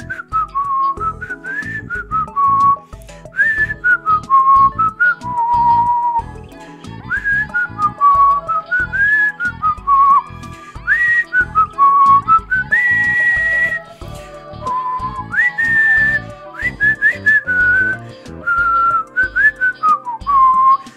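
A clear, close whistled melody in a playful Dragon Ball game setting, sustained and tuneful with sliding pitches over a steady rhythmic backing beat, carrying on alone for about twenty seconds.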